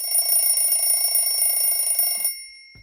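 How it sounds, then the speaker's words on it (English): A kitchen-style timer alarm rings in a continuous shrill electronic tone for a couple of seconds, then cuts off abruptly into near silence. "the timer had gone off"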